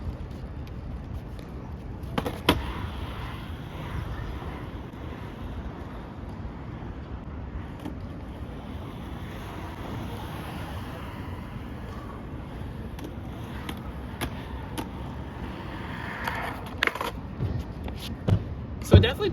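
A skateboard fitted with Grindking Locker 2 trucks and medium stock bushings rolls steadily, giving a continuous low wheel rumble with wind noise throughout and a few sharper clacks near the start and end.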